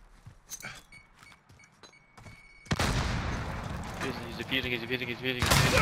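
A Semtex grenade detonates in a shooter video game, a sudden loud blast followed by sustained explosive roar and rattling gunfire; sparse clicks and shots come first, and a second burst swells near the end.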